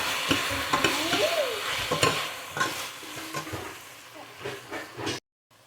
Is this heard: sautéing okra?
yes